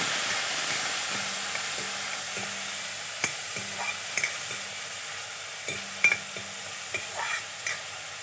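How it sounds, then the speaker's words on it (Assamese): Spice paste of Kashmiri chilli, cumin and coriander powder with a little water fries in a pan, a soft steady sizzle with a low hum and sharp clicks of stirring against the metal. "এনেকৈ 5 মিনিট সময় মছলাখিনি ভাজি ল'ম।"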